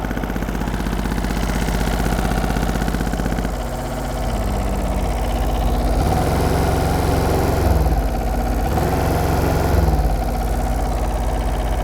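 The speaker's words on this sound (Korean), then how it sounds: "엔진 소리는 괜찮습니다 지금 에어클리너 카바가 고정이 잘 안 돼 있어 가지고 이 딸딸딸딸 거리는 소리가 나는데" A 2011 Yanmar SV08 mini excavator's small three-cylinder diesel engine idles steadily up close, a continuous low throbbing hum with a faint rapid rattle from a loose air cleaner cover riding on top.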